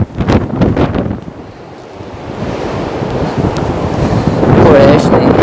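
Strong 60-70 mph wind buffets a Zpacks Plex tent in a continuous, loud, gusty roar that swells toward the end, with some brief voice sounds mixed in.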